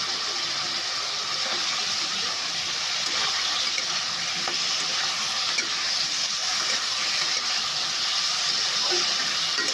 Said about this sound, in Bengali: আমি যে পেঁপে আলু ভেজে রেখেছিলাম ওটা দিয়ে দিলাম।